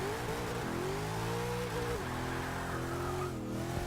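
A 1965 Ford Mustang in the racing game Forza Motorsport 6 spins its wheels, its engine droning loud and steady with rising and falling revs while the tyres scrub continuously.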